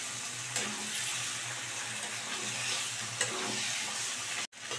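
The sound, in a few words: stirring fried chicken into sizzling masala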